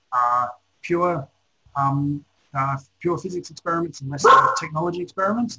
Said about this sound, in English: Apologies about the dog. The dog's barking at something.